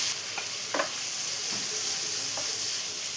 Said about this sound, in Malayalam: സവാളയെല്ലാം ഗോൾഡൻ ബ്രൗൺ കളറായി വരുന്നവർ നന്നായിട്ട് തന്നെ വഴറ്റിയെടുക്കാം